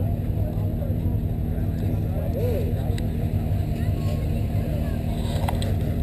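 A group of Can-Am Maverick ATVs idles and rumbles in the early morning at a casino parking area, a steady low engine drone with faint distant revs, no talk over it.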